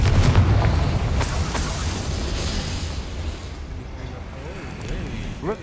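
Confringo fire spell blasting in Hogwarts Legacy, a loud booming explosion with a fiery burst that rumbles and fades over several seconds.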